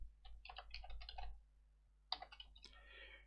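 Typing on a computer keyboard: a quick burst of clicky keystrokes, a pause, then a few more taps, close and fairly quiet.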